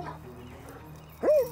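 An anxious, overstimulated German Shepherd on a leash gives a single short, rising whimper near the end, following faint noises at the start over a low steady hum.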